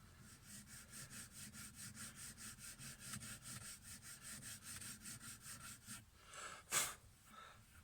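Close, steady back-and-forth strokes of 120-grit sandpaper under light pressure on a wooden fishing float turning on a mandrel, a soft rhythmic rasp ending with a brief louder scrape.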